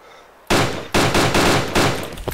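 Gunfire in the video game DayZ: a burst of four or five loud, close shots in quick succession, each with a sharp crack and ringing tail, heard alone.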